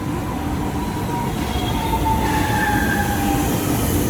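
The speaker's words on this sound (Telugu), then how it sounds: "చూడండి మెట్రో ట్రైన్" A Chennai metro train rumbles steadily nearby as it arrives, its wheels giving off thin squealing tones as it rolls along the track, loud and continuous.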